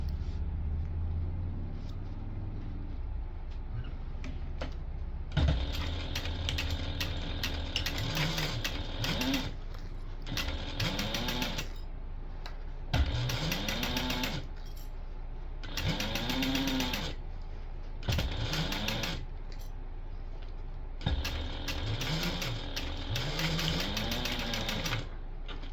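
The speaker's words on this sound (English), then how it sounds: "we're going to go ahead and top stitch this together using an 1/8 inch seam allowance" A sewing machine top stitches a tote bag with an eighth-inch seam allowance, running in repeated bursts of steady, close motor whir and needle clatter separated by short pauses.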